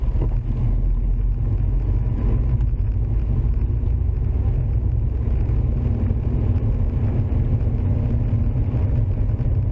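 Car on Nokian WR D4 winter tyres driving along a snowy UK road in heavy snowfall, heard from inside as a steady low rumble of engine and road noise with no voices.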